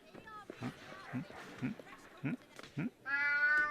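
A series of short cat meows from the video game Alice: Madness Returns, spaced irregularly, followed by a higher drawn-out meow at the end; the sounds are clear and fairly close.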